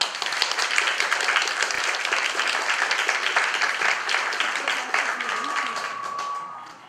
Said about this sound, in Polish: Proszę o oklaski jeszcze raz.